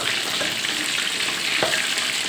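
Steady, close sizzling and crackling of black-pepper-marinated sea bass fillets frying in hot oil, constant throughout with a brief louder pop.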